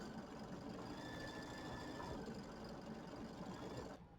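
An embroidery sewing machine quilts a beach umbrella block with a fast, steady mechanical stitching chatter that runs evenly for about four seconds before dropping off at the end.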